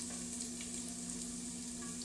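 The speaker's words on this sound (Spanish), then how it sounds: "esas 2 cucharadas de aceite nos van a servir para freír nuestras papas" Potatoes frying in two spoonfuls of oil, a steady close sizzle with small crackles throughout, no voice over it.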